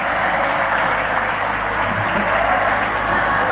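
A school audience with students from SMKN 2 Cibinong cheers and claps in a continuous, loud wash of applause and shouting, steady throughout with no clear breaks.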